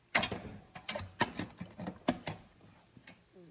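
A 3/8 drive ratchet turns on the engine of a Grand Caravan with a 3.6 Pentastar, giving a series of sharp clicks at an uneven, quickening pace, close and clear, with no speech.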